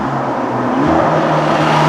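Ferrari Roma with a 3.9-litre twin-turbocharged V8 and Novitec parts drives in Switzerland, its engine a steady, loud cabin drone with low harmonic hum and no voices over it.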